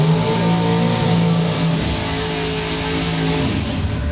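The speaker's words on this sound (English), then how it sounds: "A dragster against a door slammer, and they both are 8-second cars." Two drag racing cars, a dragster and a door slammer, both 8-second cars, rev their engines loudly and steadily at the strip, a continuous close roar with rising and falling pitch and no talking.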